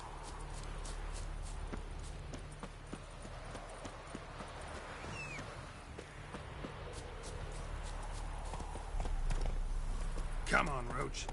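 Geralt's horse Roach trots in The Witcher 3, a steady, rhythmic clip-clop of hooves that carries through the whole stretch over continuous outdoor game ambience, with voices now and then.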